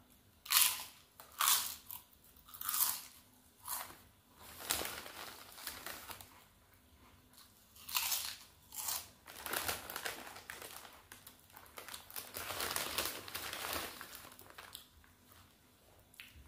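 Fox salt and vinegar potato chips are eaten from a crinkly bag, with bursts of crunching and rustling repeating irregularly at close range, quiet in the pauses between.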